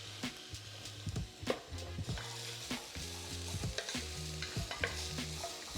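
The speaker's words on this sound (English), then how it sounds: "All you want to do is keep your vegetables moving around." Carrots, celery and leek sizzle in a soup pot as a spoon stirs and scrapes them in repeated strokes, with steady frying hiss underneath and no talk.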